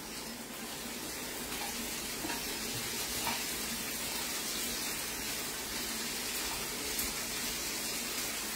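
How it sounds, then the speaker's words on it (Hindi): Tomatoes go into a hot pan in a home kitchen, raising a steady, dense sizzle and frying hiss that runs evenly throughout, close and moderately loud, with no talking. "अब इसमें मैं टमाटर भी डाल देती हूँ,"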